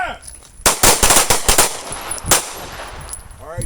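Pistol shots crack out on a shooting range during combat accuracy and threat-response drills, a rapid string of loud close reports with a few more trailing afterward, over light outdoor background.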